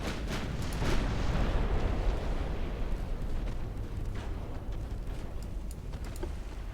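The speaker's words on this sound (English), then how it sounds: "Torpedo detonation." A torpedo detonating in the naval warfare game Ultimate Admiral Dreadnoughts: a loud, deep blast swelling near the start, then a long rumbling roar that slowly fades, no talk.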